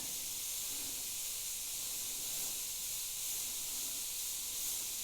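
An airbrush spraying paint in fine detail dots gives a soft, steady hiss of air that stays fairly quiet and even from start to finish, with no voices.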